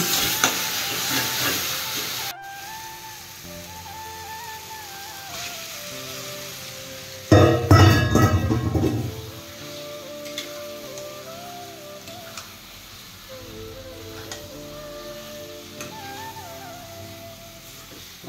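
Chicken frying in oil with masala, a steady hiss and crackle of sizzling, loud at the start, then quieter under a low background drone, with a brief louder burst partway through.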